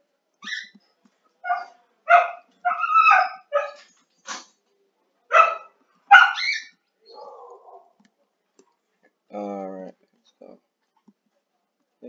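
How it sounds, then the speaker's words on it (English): A dog complains with a few short barks and whimpers, fairly close, between bursts of talk during a game session. "My dog is complaining."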